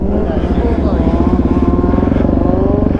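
A Suzuki DRZ motorcycle engine runs close by with a loud, rapid, buzzing thump that rises in pitch as it revs, steady throughout the short clip.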